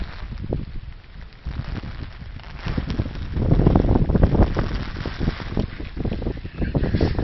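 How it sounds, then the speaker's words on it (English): Strong gusty wind from Hurricane Sandy roars and buffets the microphone outdoors, loud and continuous, with surging gusts. "The wind is picking up."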